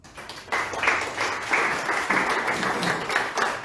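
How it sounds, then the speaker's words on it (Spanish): A crowd breaks into applause after a brief pause, steady clapping from many hands continuing to the end. "Le damos la bienvenida con un fuerte aplauso."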